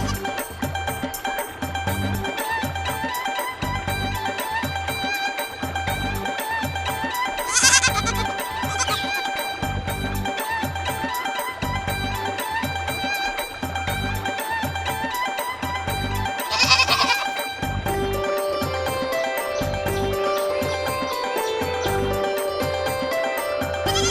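Goat bleats twice over a loud, steady rhythmic backing music track in an animated children's story about carrying a goat, grass and a lion across a river; the bleats stand out briefly and clearly.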